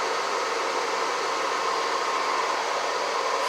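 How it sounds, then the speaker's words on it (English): Hair dryer in a paint booth blowing over freshly painted diecast diorama parts, a steady, continuous airy whoosh at close range that holds level throughout with no talking. "I do use my paint booth hair dryer setup"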